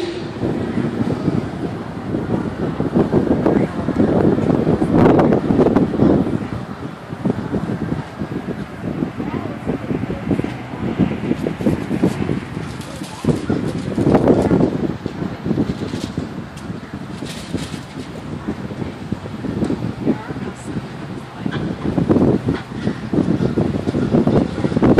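Wind blows outdoors near the foothills of the Appalachian chain, gusting and buffeting the microphone in uneven surges that rise and fall, with a person talking under it.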